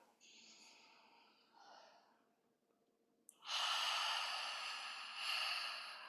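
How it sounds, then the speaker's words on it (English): A person breathes slowly, first a soft inhale through the nose and then, after a short pause, a louder, longer breathy exhale through the mouth, close and alone. "take a long, slow, deep inhale through your nose. Exhale through the mouth."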